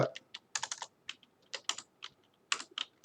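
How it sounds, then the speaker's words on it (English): Typing a command on a computer keyboard for a network switch, a quick irregular patter of close, crisp keystrokes in short bursts with brief pauses. "now you go to your switch and type this command"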